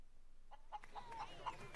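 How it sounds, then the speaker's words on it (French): Chickens in the video game Far Cry New Dawn cluck softly in a few short, faint calls over quiet game ambience. "Oh non, non, non, pas les poules, pas les poules."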